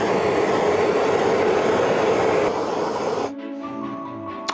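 A torch flame roars steadily for about three seconds while heating EVA foam, a loud, even broadband hiss, before it cuts off and leaves a quieter, faint tonal hum.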